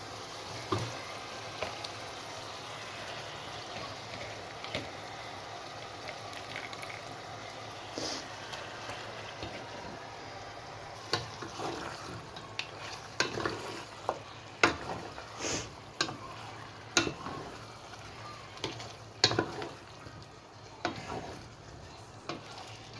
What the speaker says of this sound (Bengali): মাংসটা কষানো হতে থাকুক